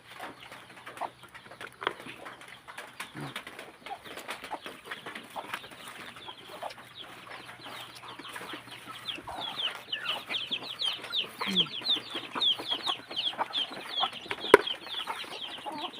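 A flock of native Thai chickens clucks and chirps busily at close range while being fed, the chatter growing denser and louder partway through, with scattered pecking sounds and no talking.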